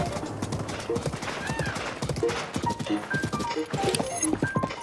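A horse in an open-world video game clip-clops steadily and whinnies several times, with the hoofbeats loud and close alongside in-game sounds.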